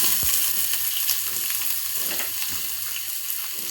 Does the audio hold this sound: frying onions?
yes